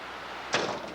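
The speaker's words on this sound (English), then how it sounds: "8-track tapes falling down" A brief clattering crash of 8-track tapes tumbling down, a short burst in an otherwise quiet room, fairly close.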